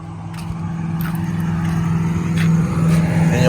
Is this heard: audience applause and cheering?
no